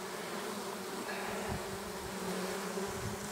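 Many honeybees hum at a hive in a dense, continuous drone, close by and steady throughout, with no voices.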